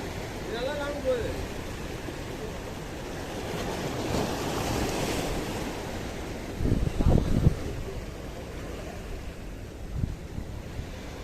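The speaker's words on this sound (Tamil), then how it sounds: "காற்று இப்படி தான் அடிக்குது" Wind blows hard at the seashore during ultralight jig fishing, a loud continuous rushing with gusts and microphone buffeting, with surf mixed in.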